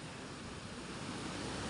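River water flows steadily where people do laundry by hand, a continuous broadband rush with no breaks, close and moderately loud, with no voices.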